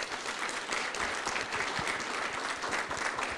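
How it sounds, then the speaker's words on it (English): Steady audience applause, dense and continuous clapping throughout, fairly loud with no voices standing out. "Let's give them a round of applause."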